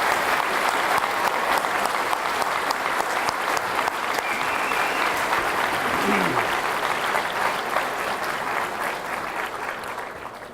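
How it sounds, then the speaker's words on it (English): Sustained applause from a graduation crowd for three commencement speakers, dense steady clapping throughout that thins slightly at the end, with faint voices mixed in. "Could we get one more round of applause for our three commencement speakers?"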